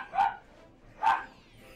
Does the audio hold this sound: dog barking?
yes